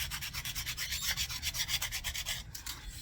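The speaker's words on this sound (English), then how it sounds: "I just use the edge of the sandpaper" Sandpaper edge scrubbing filler off a fishing rod's cork grip, a close, steady run of quick back-and-forth rasping strokes with no voices.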